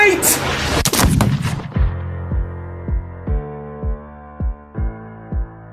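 Pistol shot fired in the duel scene of a stage performance of the musical Hamilton, a loud crack amid a dense, noisy passage, followed by a series of evenly spaced deep percussive hits under sustained tonal music.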